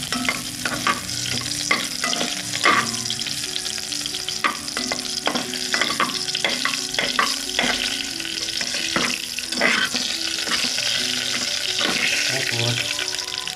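Ginger sizzles in oil in a wok for chicken tinola while a utensil stirs and scrapes it. The frying hiss stays steady and loud throughout, with repeated clacks of the stirring.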